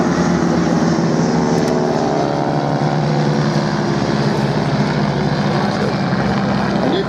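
Propeller engine of a de Havilland Dragonfly vintage biplane airliner, a loud steady drone with rising harmonic tones throughout, close by and continuous with no break.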